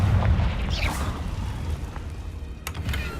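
Confringo fire spell from Hogwarts Legacy bursting into a deep rumbling explosion, with a low boom at the start and a few crackling pops trailing off.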